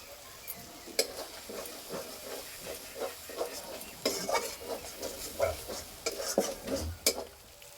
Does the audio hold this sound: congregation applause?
no